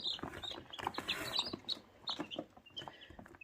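Newly hatched, dried-off chicks from a 21-day home incubation cheep and cluck in a soft, busy cluster of short calls, close and fairly quiet.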